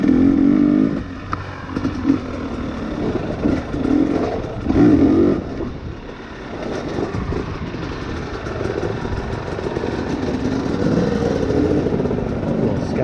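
A 2020 KTM XC250 TPI two-stroke dirt bike is ridden with a steady engine drone that rises and falls in revs, heard from on the bike with wind and riding noise throughout.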